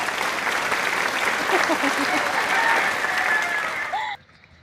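Clapping for a correct answer in a Tagalog riddle game, a dense, steady patter of many hands that runs loud and continuous with some voices mixed in, then stops abruptly near the end.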